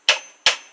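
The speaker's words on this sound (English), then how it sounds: "I think I'm going to get a hammer and just tap it off." A hammer strikes an old water pump on a BMC A-series engine twice, two sharp metallic taps evenly spaced and close, each ringing briefly before it fades, with no talking.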